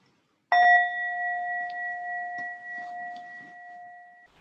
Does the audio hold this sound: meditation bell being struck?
yes